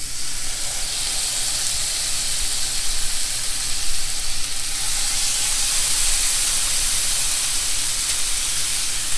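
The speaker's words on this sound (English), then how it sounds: "Now at the same time I'm cooking this fish in the pan, I'm gonna have the onions in there going too." A blackened catfish fillet sizzles in a hot pan alongside onions, a steady loud hiss with no break throughout.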